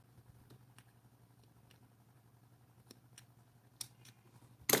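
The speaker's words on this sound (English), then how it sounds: "I'm just gonna grab my scissors." Scissors snipping yarn while crocheting a decorative coaster. A few soft, faint clicks sit over a low steady hum, with a louder, sharper snip right at the end.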